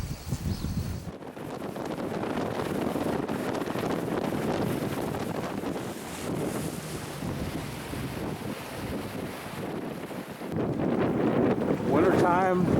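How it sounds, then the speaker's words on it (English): Strong winter wind in Texoma buffets the microphone in a constant loud roar, with rushing gusts and no voices. "it's a little windy"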